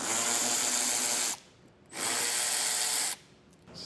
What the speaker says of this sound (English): I'm going to remove these 4 7mm screws, that way I can tuck the wire up and hide it